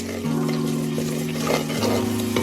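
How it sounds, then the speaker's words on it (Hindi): Salt, chili powder and turmeric are stirred into a sizzling potato and pea curry, a short burst of frying hiss and scraping as the spices are mixed in, with music in the background. "डालने के बाद अच्छी तरह करेंगे मिक्स।"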